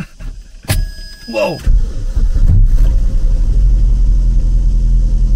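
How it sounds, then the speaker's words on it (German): An old minivan with 208,000 kilometres on it cranks with a whine, then its engine catches into a deep, loud, steady rumble that keeps running; a person briefly exclaims as it starts. "Lass mal gucken, ob die Karre überhaupt anspringt"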